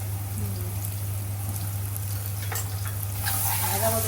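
Green chilies and onion fry in a pan for a dried rupchanda fish dish, giving a steady soft sizzle under a low constant hum, with faint clinks and stirring toward the end.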